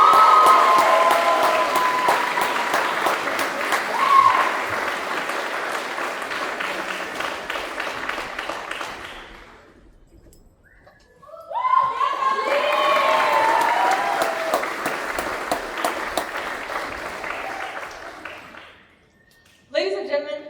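Audience applause at a JROTC battalion award ceremony: two sustained bursts of dense clapping and light cheering, separated by a brief lull, with some talk mixed in underneath.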